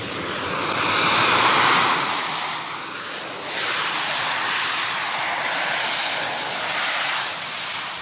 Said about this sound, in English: On the back, you've got three engines in the back here, and then you've got the fuel that sits above the engines.